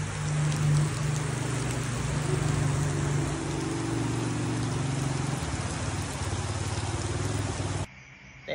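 Steady rain hissing broadband during a long-distance cycling ride, loud and continuous with a low rumbling hum beneath, cutting off abruptly near the end.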